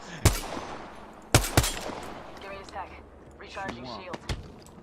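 Gunfire in the battle-royale game Apex Legends rings out as sharp, loud shots, a single blast and then a quick double, with talking voices in between and afterward.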